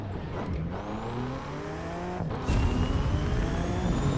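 A BMW X6M SUV engine in The Crew 2 drones in a muffled, subdued tone, rising steadily as it accelerates through the gears, then jumps to a louder, fuller roar partway through with no talk over it.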